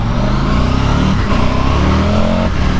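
A KTM motorcycle accelerates hard to overtake another vehicle, its engine note rising and revving close and loud for a few seconds with no talk.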